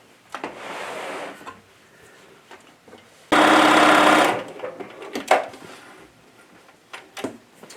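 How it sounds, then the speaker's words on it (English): Sewing machine stitching fabric pieces together in one loud, steady whirring burst of about a second, set apart from quieter handling noises and soft clatter before and after. "now I'm going to stitch these together"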